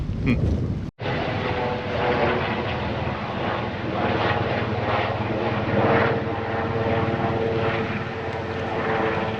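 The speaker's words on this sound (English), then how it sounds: "There goes a helicopter." A helicopter drones steadily overhead along a lakeside trail at Kinkaid Lake, its engine and rotor noise holding loud and even throughout after a brief cut near the start.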